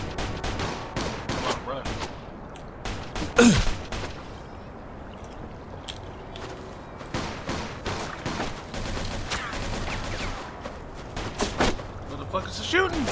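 Rapid bursts of gunfire in the video game Mafia II, sharp repeated shots and a sustained fusillade under shouted voices and a loud blast-like hit near the middle.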